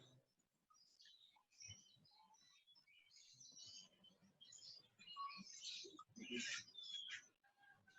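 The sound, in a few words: pet bird chirping indoors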